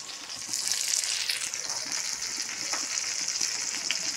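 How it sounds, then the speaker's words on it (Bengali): Pointed gourd (potol) frying in a pan for potol bhaji, giving a steady bright hiss and sizzle throughout, fairly quiet and close, with no talk. "পটল ভাজি রান্না করতেছি"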